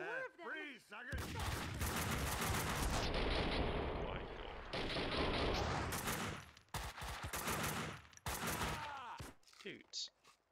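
Intense gunfight in the shooter Max Payne 2, loud sustained volleys of close gunfire in long dense bursts, with brief pauses and ringing echoes between them.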